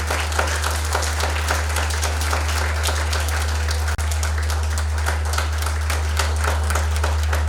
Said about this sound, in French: Nous vous demandons un show, ou bien 2 shows d'applaudissements pour cette personne.